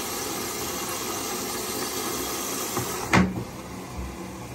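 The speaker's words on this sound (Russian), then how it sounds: "Стиральная машина у нас начала набирать воду" A Whirlpool washing machine that is showing a service fault fills with water: a steady, close hiss and hum runs throughout, broken by one sharp knock near the end.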